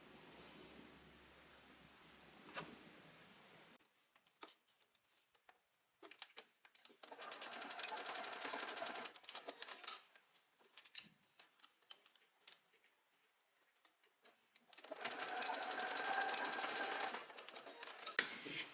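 A sewing machine stitches across the finger straps of a Cassie top, running in sustained bursts of rapid ticking with short pauses between passes, fairly close and steady.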